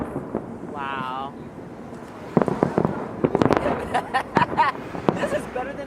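Fireworks for Chinese New Year in New York City burst in a quick flurry of crackling pops and booms that grows denser after a quieter start, with voices exclaiming nearby.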